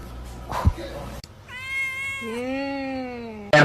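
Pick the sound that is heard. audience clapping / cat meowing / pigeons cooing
cat meowing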